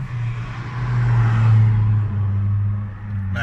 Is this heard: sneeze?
no